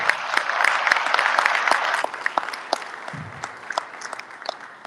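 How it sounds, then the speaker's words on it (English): An audience at a citywide men's meeting breaks into applause, with dense clapping that stays steady for a few seconds and then fades into scattered claps. "Can we give that round of applause?"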